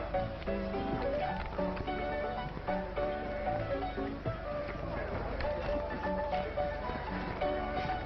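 Horse hooves clip-clop in a steady rhythm alongside rolling wheels and a busy background, with voices calling out over the noise, in an old Western serial.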